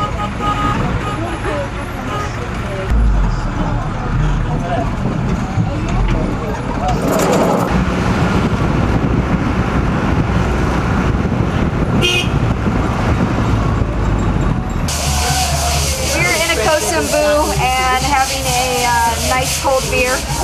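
A trotro minibus rolls through Accra traffic with a steady engine rumble and road noise, horns tooting now and then, and voices talking over the ride.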